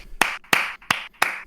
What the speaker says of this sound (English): I'll clap once for that. Just one single clap.